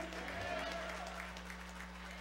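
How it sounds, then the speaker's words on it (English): A church congregation at an usher anniversary service applauds the drummer, a faint, sustained crowd clapping heard through a steady low hum, with a few brief tones from the band near the start. "And give our drummer, Tremaine, a round of applause."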